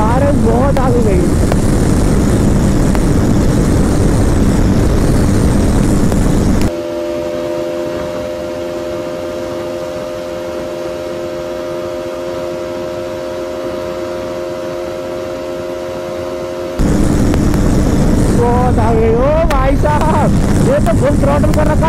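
Hunter 350 and Pulsar RS 200 motorcycles at full throttle in a drag race give a loud, wind-buffeted engine roar that drops to a steadier, quieter droning hum midway, then swells again, with people talking over it.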